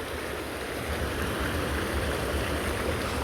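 The Tzitzil river rushes beneath a hammock suspension bridge in Joyabaj, Quiché, as a steady, unbroken wash of flowing water with no voices.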